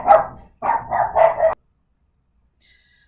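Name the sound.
dogs barking in the background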